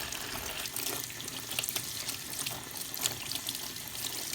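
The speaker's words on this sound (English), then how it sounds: "So you wash your vegetable, you just want to make sure you rub it real good." Running tap water splashes steadily into a sink while a freshly pulled carrot is rubbed clean under the stream, a continuous close hiss with faint shifting splatter and no talking.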